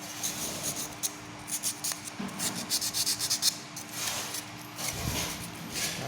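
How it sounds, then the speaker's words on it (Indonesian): Sandpaper scrubs the tip of an ignition distributor rotor from a Toyota Corona EFI engine stand, producing close, quick rasping strokes in uneven bursts with brief pauses between them. "Rotor ujungnya dibersihkan, kita amplas."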